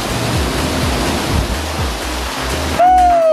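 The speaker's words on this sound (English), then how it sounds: "The waterfall is so powerful." A steady, dense roar of a powerful waterfall in Mauritius fills the whole clip, close and loud, with a brief rising tone near the end.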